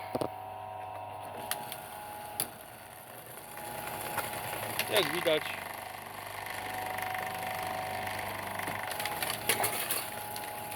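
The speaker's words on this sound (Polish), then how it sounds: "rozbieranie kabli takiej średnicy nie nastręcza maszynie żadnego problemu" An EN50 cable stripping machine works through a thick feeder cable about 5 cm across, giving a steady mechanical grinding and crunching drone with scattered clicks, while someone talks over it.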